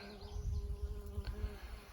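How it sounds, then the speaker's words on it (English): Bees buzz around a weeping tree whose bark seeps moisture. The steady, close insect drone swells and dips over two seconds and no one speaks. "obviously the bees really enjoy it"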